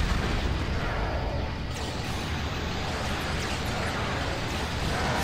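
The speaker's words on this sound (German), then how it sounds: "So, hier kann ich auch schon mal die Kanonen ein bisschen kaputt ballern." Cannons being shot up in the LEGO Star Wars video game, a dense continuous barrage of blasts and explosions at moderate level, with no talking.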